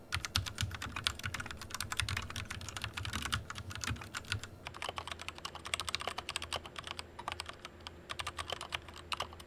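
Fast, steady typing on a Royal Kluge RK100 96% mechanical keyboard with hot-swap switches, a dense run of close, crisp, fairly high-pitched key clacks with no talking.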